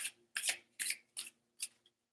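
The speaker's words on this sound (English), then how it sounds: "Oh, a little bit difficult to shuffle." Cards being shuffled in four quick riffling bursts with short pauses between, close and crisp, no voices.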